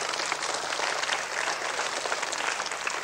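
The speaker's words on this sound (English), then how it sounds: "Give us a nice little clap for that." A short burst of steady applause from a middle school audience at an assembly, dense hand clapping filling about three seconds at an even level with no voices.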